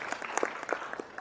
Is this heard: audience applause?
yes